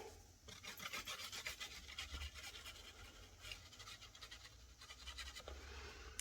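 Paper scraps being glued and pressed together for a small handmade photo album, soft rubbing and scratchy rustling of paper under hand pressure, quiet and close, without voices.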